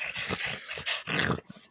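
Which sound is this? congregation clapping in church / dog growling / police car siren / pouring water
dog growling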